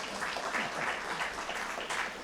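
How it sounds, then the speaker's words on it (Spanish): A seated audience applauds during a talk on collective management societies in Argentina, a dense, steady wash of clapping that holds evenly throughout without any voices over it. "Otro aplauso."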